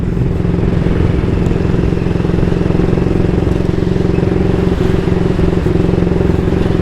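A 1938 AJS Model 22 250cc motorcycle pulls steadily in top gear, its single-cylinder engine thumping in an even, continuous drone at close range, with wind buffeting throughout and no talk.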